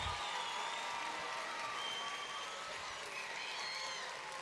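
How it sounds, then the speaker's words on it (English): Steady applause from a graduation crowd honoring the class of 2023, a soft, continuous wash of many hands clapping at a distance with no break. "a round of applause for the entire class of 2023"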